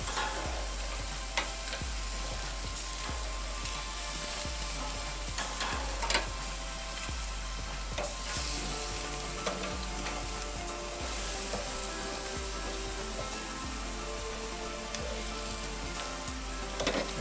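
Korean kalbi beef short ribs sizzle steadily on a hot grill, a loud continuous crackle and hiss with scattered pops and no talking.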